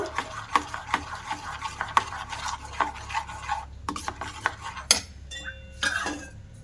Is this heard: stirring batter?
yes